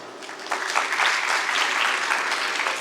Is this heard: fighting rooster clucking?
no